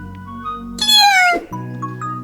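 A small cat gives one loud, drawn-out meow close by, rising then falling, with a steady low hum in the background before and after.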